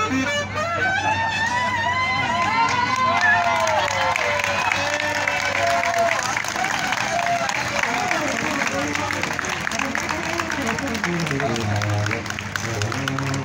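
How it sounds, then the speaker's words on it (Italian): An audience at an outdoor concert during the Festa di San Giuseppe in Casteldaccia applauds in a dense, continuous wash of clapping that holds steady throughout, with voices and sustained tones mixed in. "Ma senti come applaudono"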